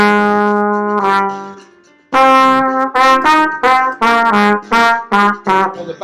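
A riff played at a faster tempo over a backing track, one long sustained note then a run of short, punchy, repeating notes, close and loud with no talk.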